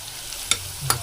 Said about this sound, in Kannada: ಈರುಳ್ಳಿ ಫ್ರೈ ಆಗಲಿ ಸ್ವಲ್ಪ